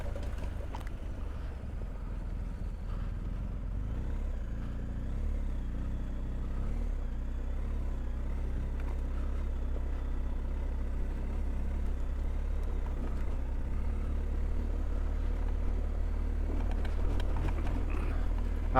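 BMW R1250GSA adventure motorcycle ridden along narrow skinny gravel tracks on a forest rally, a steady low engine drone with heavy wind rumble throughout, loud and continuous.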